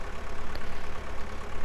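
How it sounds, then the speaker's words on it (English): A tractor engine idles in the Farming Simulator 17 video game, giving a steady, even, pulsing low rumble that stays loud and close, with no voices over it. "So they've all got slightly different engine sounds."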